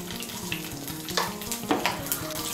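Whole cumin seeds with cardamom, cloves and a piece of cinnamon crackle and sizzle steadily in hot oil for a vegetarian potol dalna, with a few sharper pops and light stirring clinks close by.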